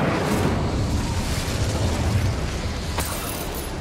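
Incendio fire spell in Hogwarts Legacy, a loud roaring whoosh of flame with rumbling bursts throughout and a sharp crackle near the end.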